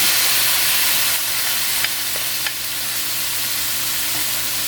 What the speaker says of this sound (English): I'm going to get in my lentils next. I have 1 can of lentils that I just rinsed.